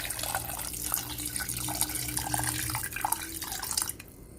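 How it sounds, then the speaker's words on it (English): Water runs steadily from a tap into a pressure cooker pot of cut carrots, a soft continuous splashing that stops near the end. "Add water."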